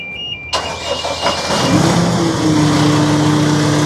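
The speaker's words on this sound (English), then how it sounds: "Once the engine is started" A sudden mechanical clunk, then the large engine of an MWS S130 wash plant cranks and catches, settling into a loud, steady rumbling idle close by.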